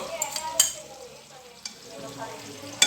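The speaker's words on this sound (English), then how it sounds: "So I'm gonna cook up the corned beef, guys. Just listen." Corned beef frying in a pan, a steady close sizzle with occasional sharp clinks and stirring scrapes, no talking.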